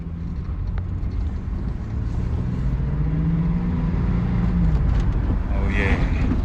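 A 1996 Chevy S10 pickup truck drives along with a steady, loud low rumble of engine and road noise heard from inside the cab, the engine pitch rising gently as it moves.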